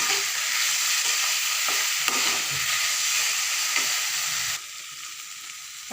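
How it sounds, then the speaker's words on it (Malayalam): Mushrooms for a roasted-coconut curry sauté in oil, giving a steady close sizzle with occasional stirring scrapes. The frying quiets a little near the end. "ഈ എണ്ണ കിടന്ന് തന്നെ ഒന്ന് വേവണം ഒന്ന് വഴന്നെടുത്താൽ മതി"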